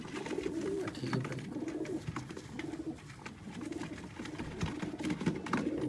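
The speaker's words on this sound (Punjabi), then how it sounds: "ਹੈ ਜੀ ਦੋਸਤੋ ਸਿਆਲਕੋਟੀ ਕਬੂਤਰ" Sialkoti pigeons kept in a loft coo in overlapping, rolling phrases, a steady soft chorus of several birds close by with faint background rustle and no talk.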